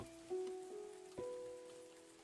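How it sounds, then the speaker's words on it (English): Soft rain patter mixed into gentle, calming background music, with sustained tones over a steady faint hiss of falling drops, quiet and continuous throughout. "there's like some rain sounds in this music."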